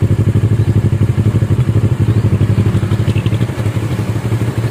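A Kawasaki ER6N with an Akrapovic exhaust and a dB killer fitted runs nearby, giving a loud, steady, rapid thumping engine pulse that stays even throughout.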